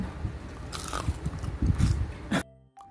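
Crunchy deep-fried red sausage bitten and chewed up close, a run of loud crisp crunches for about two seconds, then quiet.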